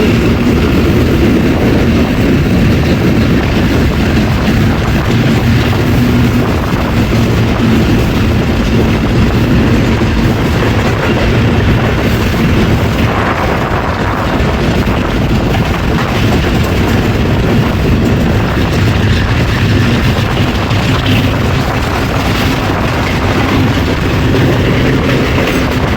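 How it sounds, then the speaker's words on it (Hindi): The Karachi Express passes through Faizabad station between Multan and Lahore, a loud, constant rumble and roar of wheels and carriages that lasts throughout, with no voices. "फैज़ाबाद से पास थ्रू हो रही है ट्रेन"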